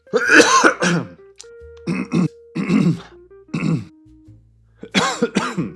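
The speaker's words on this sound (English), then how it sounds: "How am I supposed to get this done if I keep coughing over everything?" A person coughs and clears their throat in several harsh, close bursts separated by short pauses.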